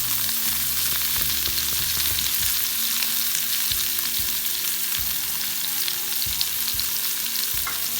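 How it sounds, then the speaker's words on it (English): Coriander splutters and crackles in hot oil in a tadka for Mysore rasam, a dense, continuous sizzle that stays loud and even, with no voice. "You would notice that it is spluttering quite a bit"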